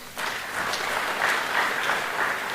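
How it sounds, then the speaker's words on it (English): At a Nile Day ceremony, a crowd breaks into applause that starts abruptly and holds steady as a full, even wash of many hands clapping, with no voices over it. "let's give them a round of applause"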